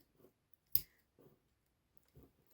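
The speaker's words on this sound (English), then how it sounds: "So snip the curve" Scissors give one crisp snip, clipping into a fabric curve close to the seam while sewing a keyhole neckline. Faint handling rustles sit before and after it.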